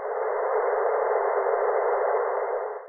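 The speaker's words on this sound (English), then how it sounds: "this is how the wind tunnel section that we showed before sounds without" Wind tunnel test section noise from an airfoil trailing edge without serrations, heard as a steady, even hiss with a narrowed, band-limited tone that holds for about three seconds with no voices.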